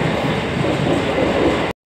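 A passenger train rolls along with a loud, steady rumble and rattle for under two seconds before the sound abruptly cuts off.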